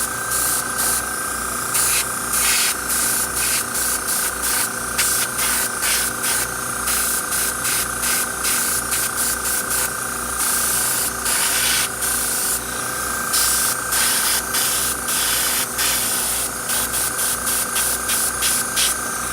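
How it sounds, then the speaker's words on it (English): Steady hissing airbrush spray with short bursts and pauses, over a constant mechanical hum from a compressor running underneath. "I have been able to do some spray painting"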